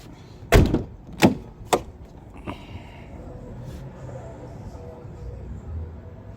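Door of a 2006 Ford Crown Victoria Police Interceptor, heard as three sharp, loud closing thumps in quick succession, then a softer fourth knock, followed by quiet outdoor background.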